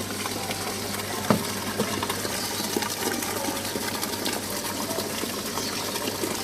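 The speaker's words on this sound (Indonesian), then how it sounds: "Kita aduk dulu airnya." Hydroponic nutrient water is stirred in a container, giving a continuous swishing, sloshing wash of water noise at close range with one brief knock near the start.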